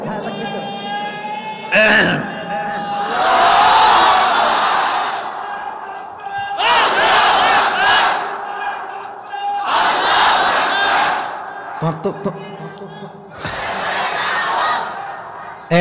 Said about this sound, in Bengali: হ্যাঁ দাও, তুমি দাও, সাদা পাঞ্জাবি দাও ভাই, তুমি দাও। হ্যাঁ তাকবীর দাও।